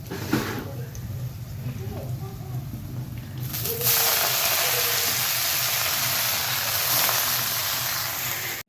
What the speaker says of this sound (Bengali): এখানে বেঁধে শাক ভাজা হচ্ছে